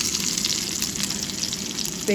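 Tempering spices, garlic, red chilli and curry leaves sizzling and crackling steadily in hot oil, a close, continuous frying hiss with no pauses.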